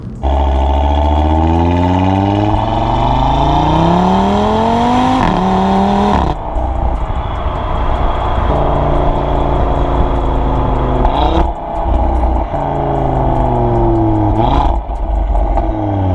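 An Audi RS3 Sportback's inline five-cylinder engine revs repeatedly, its pitch climbing and dropping through several loud, throaty sweeps with brief gear-change breaks, close and powerful.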